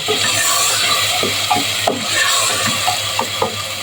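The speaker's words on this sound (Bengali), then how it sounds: "এখন মশলা খুব ভালো করে কষিয়ে নিব" Ground spice paste stir-fried in a pot for Eid-style beef curry: a loud continuous sizzle broken by repeated scraping strokes of a spoon, close up, with no voices.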